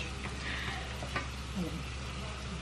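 Shrimp frying in a pan, giving a steady, soft sizzle with faint stirring clicks, fairly quiet and continuous throughout.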